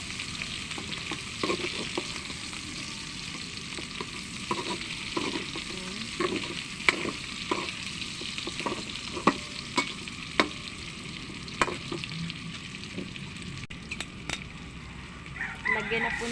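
Unpeeled garlic cloves stir-fried in a pan for Filipino humba: a steady low sizzle punctuated by a dozen or so sharp clicks and scrapes of a utensil against the pan, at an uneven rhythm.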